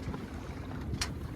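Wind buffeting a sailboat off Bainbridge Island, a low steady rumble of moving air with a brief brighter gust of noise, faint and heard without talk.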